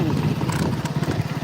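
A motorcycle rides along a forest track, its engine pulsing in a rapid, uneven putter up close, with rough wind and road noise around it.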